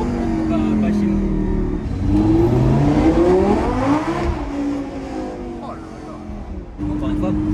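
A Lamborghini Gallardo Superleggera LP-560 on its stock exhaust revs repeatedly, its engine note climbing and falling in pitch, loud and close, while someone talks over it.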